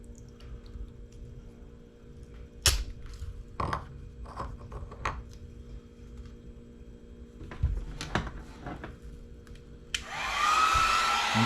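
A heat gun blows a steady broadband hiss across a helmet surface, switching on loudly near the end after scattered handling clicks and taps; no one talks.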